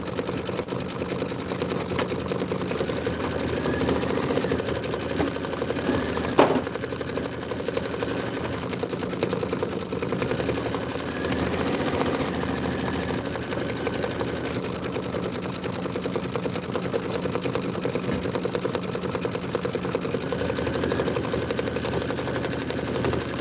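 An embroidery machine stitches out an apple tree design in a sewing shop, its rapid rhythmic needle clatter running steadily and close, with one sharp click partway through.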